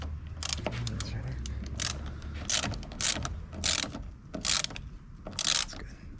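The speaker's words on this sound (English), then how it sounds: "I think that thing ratchets it pretty good." Repeated ratchet clicks tighten the battery hold-down on a 2010 Ford F150 with the 5.4 liter engine, coming in about six short bursts of clicking at close range, with a low hum and some talk underneath.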